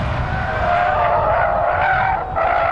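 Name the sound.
small Suzuki or Subaru car wheel spin on track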